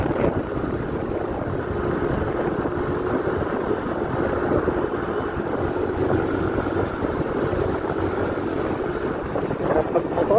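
Constant rushing wind over the microphone while riding a scooter motorbike, with a low engine drone beneath, steady and unbroken throughout.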